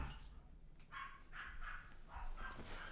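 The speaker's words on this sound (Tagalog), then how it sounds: "Ang ingay ng mga aso ko." Several small dogs bark in sharp, repeated yapping bursts across a few seconds, fairly close and loud over a low room rumble.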